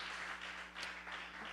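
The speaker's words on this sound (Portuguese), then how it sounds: "Vamos aplaudir o Senhor mais uma vez?" A church congregation applauding, soft steady clapping from many hands at a distance, faint and continuous over a low hum.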